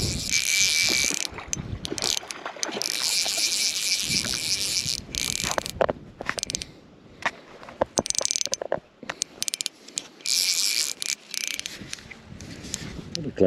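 A fishing reel's clutch clicks in rapid ratcheting bursts as a hard-fighting fish pulls line on a lake, loud and close, with wind buffeting the microphone throughout.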